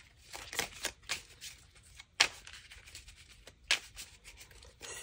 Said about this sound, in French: on va aller tirer 9 cartes